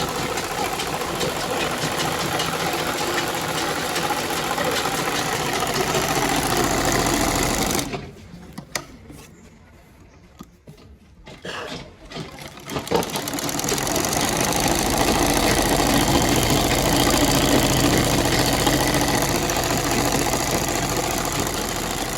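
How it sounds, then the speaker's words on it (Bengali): A sewing machine runs loud and close while stitching a full-length dress sleeve, a steady rattling whir that stops for a few seconds midway and then resumes. "তো এটা হাতা সেলাই করছি"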